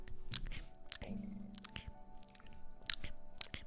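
Gum chewing, close and loud, with repeated wet smacking bites in an irregular rhythm over a low steady background hum, in a NoPixel GTA roleplay setting.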